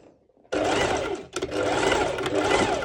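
A sewing machine runs steadily, sewing straight stitches over an elastic band for a sporty top, with a brief pause before the loud, close whirring resumes; no talk.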